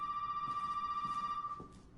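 Steady electronic telephone ring with a constant pitch from inside the Resident Evil 7 teaser game, pulsing rapidly for about a second and a half before cutting off, with faint room sounds and no talking.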